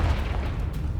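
A Confringo blasting spell in Hogwarts Legacy goes off as a loud, close, booming burst that rumbles briefly.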